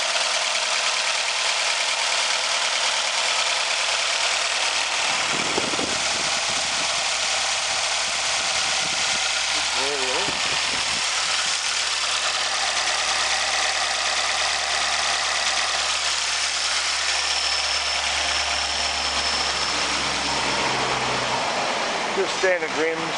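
A Nissan X-Trail with a QR 2.5 engine idles steadily at an auto parts yard, a continuous mid-pitched running hum with a brief speed change near the end, while someone talks over it.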